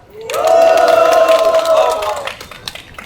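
A crowd at a construction workers' rally outside Suwon Station bursts into loud, close applause and cheering with whistles and shouts, swelling quickly, holding for about two seconds, then fading into scattered claps.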